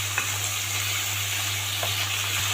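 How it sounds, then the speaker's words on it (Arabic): Chicken fries in butter in a pan with a steady, close crackling sizzle and a low hum underneath, broken by a few soft scrapes and pops as the pieces are turned, with no talking. "كده الفراخ بدات تاخد لون اهو، نبدا نقلبها"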